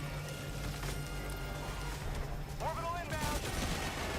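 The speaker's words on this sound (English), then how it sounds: "Gatling Sentry doing its work there on the other side of the cover" A Gatling Sentry turret in Helldivers 2 fires off behind cover amid a busy battle, dense rapid bursts mixed with booms and crashes, with voices heard over the gunfire.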